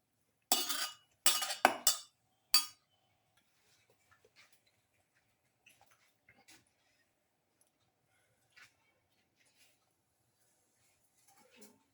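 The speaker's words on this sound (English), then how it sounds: "Gently mix it in" Ingredients for a pepper garlic milkfish pilaf are stirred in a cooking pot: a few quick, loud scraping strokes at the start, then near silence broken by faint, scattered clinks and taps.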